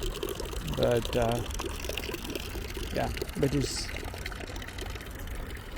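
Water runs steadily from an open fountain tap in a Milan park, a continuous splashing pour close by while someone talks over it.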